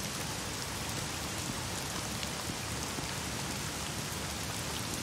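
Steady, dense rain pours in a dark scene of the video game The Medium, a continuous hiss of drops on surfaces with no voices, holding at an even level throughout.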